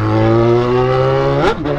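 A loud motorcycle with a straight cut-pipe exhaust roars up close, a steady harsh engine drone that surges in pitch near the end before dropping back.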